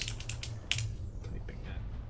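Typing on a computer keyboard, a quick run of close, crisp key clicks with a short pause, under a low background hum.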